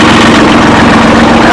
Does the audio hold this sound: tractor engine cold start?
yes